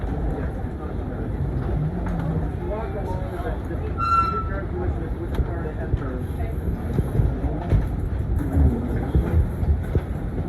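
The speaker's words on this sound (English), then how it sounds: "this is the subway" A New York City subway train rumbles steadily with rail noise and a few high squeals and clicks, while people talk faintly underneath.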